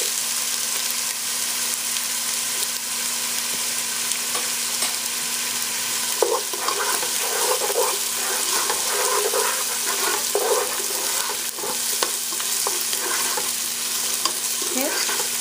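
Onions hit ground beef already frying in a pan, setting off a steady sizzle with bursts of stirring and scraping midway, close and fairly even in level, with no one talking.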